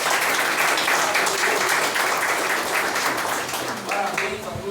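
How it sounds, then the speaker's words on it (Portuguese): A church congregation claps during a Lord's Supper service, a steady, fairly loud wash of applause that eases slightly toward the end with a voice faintly under it. "Vamos aplaudir esse"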